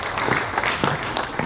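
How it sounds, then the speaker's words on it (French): A crowd at a French cycling tour presentation gives a short, dense burst of applause, fairly close and loud, with no talk over it. "Applaudissements pour le comité départemental et le comité régional."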